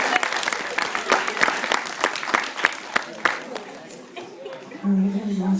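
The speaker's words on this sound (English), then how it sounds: "Let's give another round of applause," Audience at a hypnotist show claps steadily, a dense patter of many hands that thins and fades toward the end as a voice starts talking.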